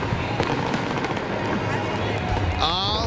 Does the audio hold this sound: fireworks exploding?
yes